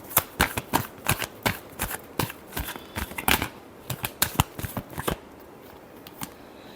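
Tarot cards are shuffled by hand in a quick series of crisp riffling snaps and flutters, loud and close, bunched in irregular bursts with short pauses before trailing off.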